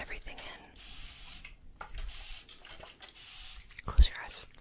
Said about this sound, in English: some spray, okay? To set everything in.